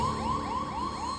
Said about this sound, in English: a problem with the onboard computer. 1202 alarm